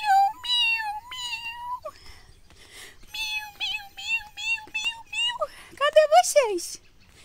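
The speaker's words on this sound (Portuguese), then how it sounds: "E os gatinhos estão miando." Several kittens meow repeatedly in high, drawn-out cries, close and fairly loud, overlapping toward the end.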